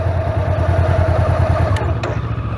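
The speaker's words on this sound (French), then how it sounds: "Et la moto démarre." A motorcycle at a riding school sits running in neutral just after starting, its engine ticking over with an even, rapid loud pulse, close by, with a couple of brief metallic clicks near the end.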